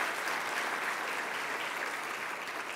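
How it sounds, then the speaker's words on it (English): An audience applauds Katrina Conroy, Minister of Children and Family Development, at an early years summit, a steady dense wash of clapping filling the room with no pauses. "You can clap for her."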